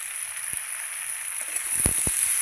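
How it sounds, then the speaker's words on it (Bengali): Vegetables frying in a pan with salt and turmeric, a steady high sizzle with a few soft knocks and clatters of stirring near the end. "সবজিগুলো খুব ভালো করে আমি ভাজবো।"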